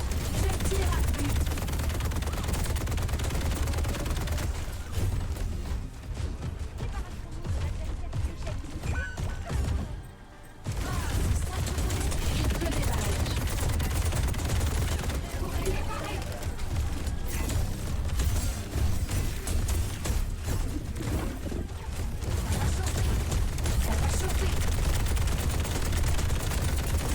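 Sustained automatic gunfire from the D.Va mech in the Overwatch video game, loud and nearly continuous with dense layered bursts and impacts, breaking off briefly in a short pause before resuming.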